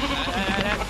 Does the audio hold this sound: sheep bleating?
yes